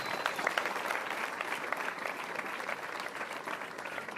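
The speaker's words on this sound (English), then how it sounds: "Please clap for him." Steady applause from a crowd at a school academic day, dense clapping holding at an even level throughout with no voices standing out.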